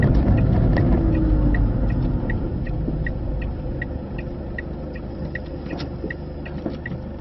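A car pulls away from the kerb and settles just past a side road, with a low engine hum fading slightly and a steady ticking of the indicator running throughout.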